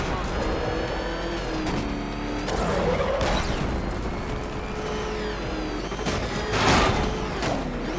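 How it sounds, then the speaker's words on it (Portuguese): Car engine from the Batman Arkham Knight video game, a battered, falling-apart motor on a race track, roaring steadily with surging revs and bursts of impact noise, under game music and voices. "Aquele motor caindo aos pedaços pode aguentar isso?"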